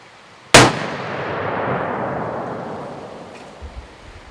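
A single loud, close gunshot from a .45 caliber muzzleloader firing smokeless powder behind a loose-fitting 275-grain bullet, a sharp crack followed by a long, rolling outdoor echo that fades over several seconds.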